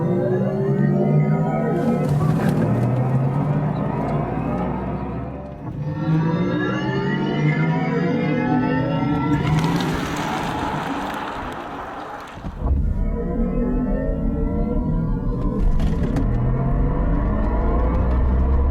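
Synthetic electric driving sound from a Mercedes EQS 53 AMG, a loud sci-fi hum whose pitch sweeps upward with acceleration in three surges, each cutting off and restarting over a low cabin rumble, with no talking.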